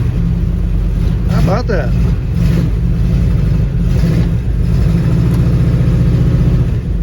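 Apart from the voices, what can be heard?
1959 Ford wagon engine idling with dual exhaust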